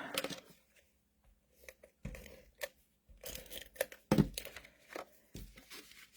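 Scissors snipping through gray cardstock for a handmade flower card, a string of short, quiet crisp cuts and rustles spaced irregularly with brief pauses, no talking.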